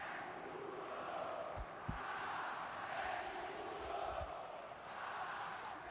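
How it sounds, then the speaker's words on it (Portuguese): Large stadium crowd at a Botafogo versus Vasco Brazilian league football match in 2002 chanting Edmundo's name, a broad rolling roar that swells and fades in waves, heard from a distance. "a torcida grita a Edmundo"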